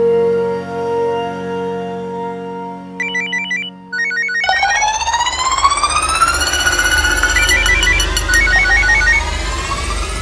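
A phone ringtone sounds in a loud, repeating electronic tone pattern that climbs in pitch, following a stretch of steady tonal sound.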